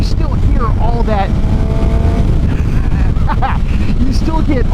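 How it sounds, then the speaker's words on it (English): A Suzuki GSX-R 750 fitted with a 16-tooth sprocket growls through its intake while riding, the engine note rising and falling amid heavy wind buffeting, with a voice talking over it. "you still get all that intake growl"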